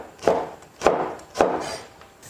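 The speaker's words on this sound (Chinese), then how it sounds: "小的青红椒，全部都切成这种小一点的壳块" Knife chopping small green and red chili peppers into chunks on a board: three evenly spaced, sharp close cuts, each with a short decay, no talking.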